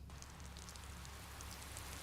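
Steady light drizzle in the Piofiore video game, a soft, even hiss of rain on surfaces with faint scattered droplets, quiet and continuous with no voices.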